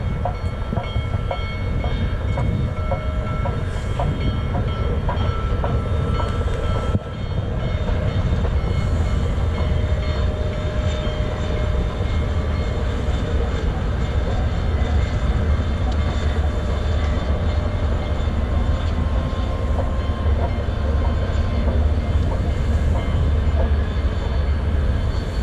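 Union Pacific 4014 steam locomotive and its train rolling past on track in Wyoming or Utah, a steady, loud, continuous rumble with faint rhythmic wheel clatter lasting throughout, no talk.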